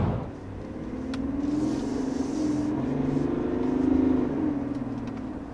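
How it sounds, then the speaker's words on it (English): A 2024 Chevy Silverado turbo diesel pickup accelerates hard from a quick punch of the throttle, a steady low engine drone swelling and holding, heard from inside the cab with no talking. "So that was a little quick punch of the accelerator."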